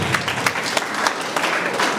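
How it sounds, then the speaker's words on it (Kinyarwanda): Brief burst of clapping from a gathered audience at a ceremony, many hands applauding together in a dense, even patter for about two seconds. "ubanze mumumpera amashyi kuko yishuye neza"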